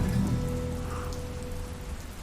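Heavy rain in a story sound effect, a steady patter of drops on a surface with a faint low hum beneath, moderately loud and continuous, with no voices.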